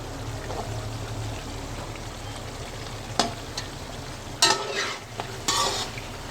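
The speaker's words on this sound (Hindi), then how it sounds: "अब इसको अच्छी तरह मिक्स कर लेंगे। अब हमें इसको काली मिर्च और हल्दी डालनी है।" Chicken karahi with black pepper and turmeric is stirred in a pan over a constant frying hiss, broken by a few sharp scrapes and clatters of the spoon; no speech.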